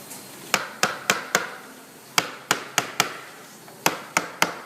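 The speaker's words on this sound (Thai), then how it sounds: "คือการเคาะแผ่นให้สนิท นี่คือสำคัญมากนะครับ ตัวนี้คือการเคาะแผ่น" Ceiling panels being tapped to seat their tongue-and-groove joints tightly during ceiling installation, sharp hollow knocks in three quick bursts of three to four taps each, close and fairly loud with a brief quiet gap between groups.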